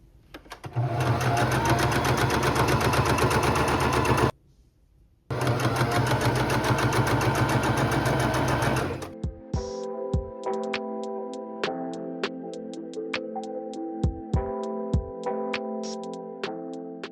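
A sewing machine runs in two long, steady stitching bursts with a short pause between, then slows into lighter clicks and taps of the mechanism.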